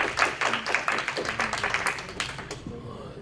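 Audience applause fills a lunchtime talk on Maryland law, a dense burst of many hands clapping at moderate volume that carries for about three seconds before thinning out.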